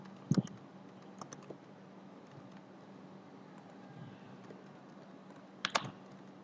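Quiet keystrokes on a computer keyboard, a few scattered clicks near the start, a brief pair near the end, and a long stretch of faint room hum between them.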